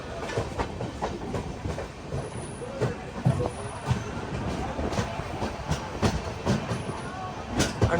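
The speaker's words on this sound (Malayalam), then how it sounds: "ട്രെയിൻ ഇതാ ചിപ്ലൂൺ സ്റ്റേഷനിലേക്ക് എത്തിക്കൊണ്ടിരിക്കുകയാണ്." The Netravati Express rolls into Chiplun station on the Thiruvananthapuram to Mumbai Lokmanya Tilak route, its wheels clattering in a steady rhythm with sharp clicks and faint high squeals close by.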